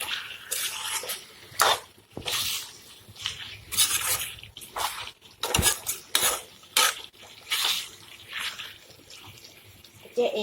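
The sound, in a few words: stirring mutton and potatoes with spices in a pot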